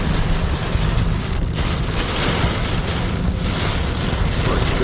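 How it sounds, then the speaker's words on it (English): Heavy rain on the North Coast of New South Wales pours down in a dense, steady roar, loud and continuous throughout, arriving from the south. "This is the rain that was coming up from the south."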